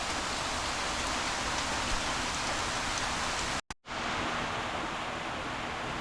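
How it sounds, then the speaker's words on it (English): Steady rushing water fills a 1000 gallon bow-front acrylic fish tank, a dense broadband hiss that runs loud and constant, broken once by a brief cutout near the middle. "I guess I'm ready to put some water in it and see what happens."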